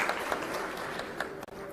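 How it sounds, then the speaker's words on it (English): Audience applause at a business partnership roundtable in India, a steady dense wash of clapping lasting under two seconds with a brief dip near the end, heard fairly close. "A big round of applause and thank you for making all the way from Armenia."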